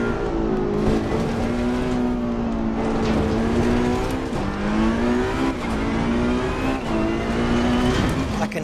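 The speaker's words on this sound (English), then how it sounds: "I can hear my own engine now." A race car engine in Assetto Corsa Competizione roars steadily at high revs, its pitch wavering through gear changes and corners, loud and close-up, with tyre and track noise mixed underneath.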